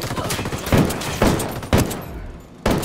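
Gunfire in the video game Ghost Recon Wildlands, four loud sharp rifle shots spaced roughly half a second to a second apart, close and punchy over a steady game background.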